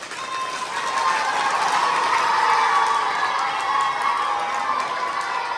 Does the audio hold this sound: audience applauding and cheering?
yes